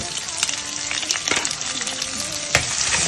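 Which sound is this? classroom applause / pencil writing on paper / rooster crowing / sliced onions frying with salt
sliced onions frying with salt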